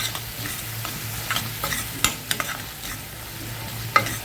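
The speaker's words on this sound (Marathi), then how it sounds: "या स्टेजला दोन तीन चमचे गरम पाणी घालायचं आपल्याला आणि परत आपल्याला ते छान असं परतून घ्यायचं आहे तेल सुटेपर्यंत" Masala sautéing in ghee for dal khichdi, a low steady sizzle with a spoon scraping and stirring the pan, occasional sharp clinks standing out, no talking.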